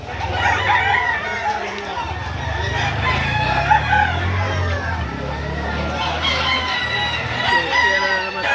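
Roosters crow loudly and repeatedly at a busy chicken market during the rainy season, with overlapping calls and clucking over a crowd murmur and nearby voices.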